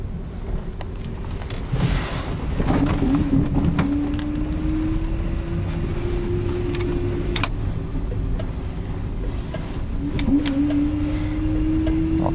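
A homemade electric Pontiac Fiero conversion drives on a cold day, with steady road and wind rumble and a thin electric-motor whine that climbs in pitch as it speeds up; no talking.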